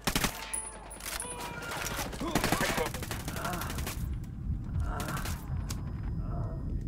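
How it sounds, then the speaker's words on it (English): Rapid bursts of automatic gunfire and scattered shots in the tactical shooter Ghost Recon Wildlands, loud and dense over several seconds, with a brief lull partway through before the firing resumes. "Opening fire."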